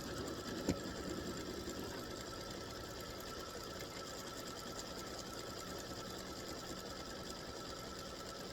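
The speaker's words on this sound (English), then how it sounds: "I'm going to use a darker red here. It's not really maroon, it's just a really dark red, to stitch the text that says play ball" An embroidery machine stitches applique text in dark red thread on a patriotic baseball block, giving a steady, moderately quiet mechanical whir with a fine rapid needle rhythm throughout.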